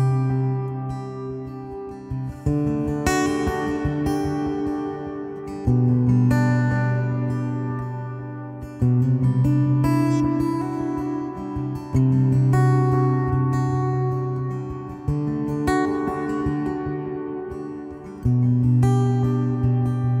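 Acoustic guitar chords ring out in slow strums, each one trailing off in echoing repeats and a wide reverb wash, with no voice.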